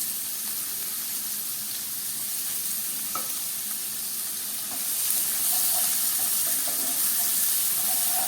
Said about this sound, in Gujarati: બે ડુંગળીને મેં બારીક ચોપ કરી લીધી છે તેને એડ કરી દઈએ